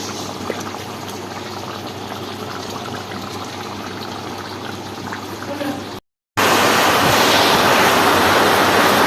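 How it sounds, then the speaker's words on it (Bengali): Heavy rain pours steadily outside as a dense, even hiss of water that cuts out briefly and then returns louder and fuller. "বাইরে শুরু হয়ে গেছে ঝমঝম করে আবার বৃষ্টি"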